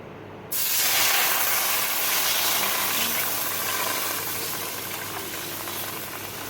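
Full-cream milk pours steadily into a kadhai for sheer khurma, a continuous broad hissing rush that starts abruptly and holds close and loud, easing slightly toward the end with no talk over it.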